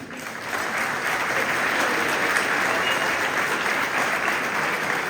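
Sustained, dense applause from a press conference audience in Paris greeting filmmaker Sylvestre Amoussou, a steady wash of clapping that starts quickly and holds evenly throughout.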